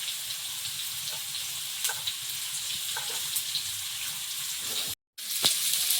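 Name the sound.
potatoes frying in oil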